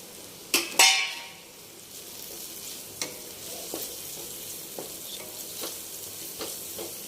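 Macaroni masala with salt, turmeric and chili being stirred in a hot pan: two sharp scraping clatters open the clip, then a soft continuous sizzle carries scattered light spoon taps through the rest, with no voices.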